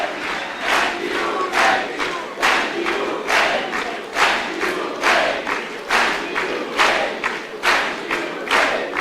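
A large outdoor crowd at an Iranian Nowruz celebration rally roars and cheers in loud, rhythmic surges, chanting in repeated bursts about twice a second with brief dips between waves.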